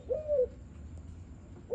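A Malaysian spotted dove gives a single soft, low cooing phrase at close range, followed by a quiet pause and the start of another coo at the end, with no talking.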